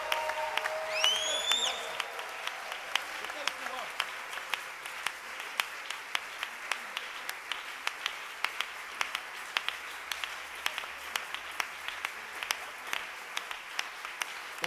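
A church congregation claps in a steady rhythm for Jesus, sharp regular claps repeating across the whole stretch, with a brief whistle-like cheer near the start and faint voices in the background.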